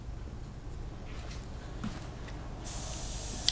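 Steady airy airbrush spray hiss with low rumble, turning into a louder, harsher sputtering hiss near the end from a blocked nozzle.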